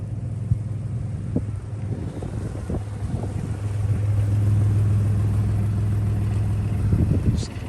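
A two-wheel drive Dodge Dakota pickup drives through snow in the North Carolina mountains, a steady low engine drone and road rumble under wind buffeting, rising slightly midway, with no talk.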